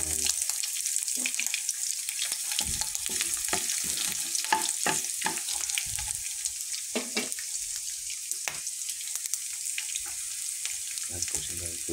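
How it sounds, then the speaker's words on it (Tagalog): Garlic and onion sautéing in a pan give a steady bright sizzle, broken by frequent scraping and clacking stirring strokes close by. "Diyan na rin tayo mag-gisa ng ating bawang para sibuyas."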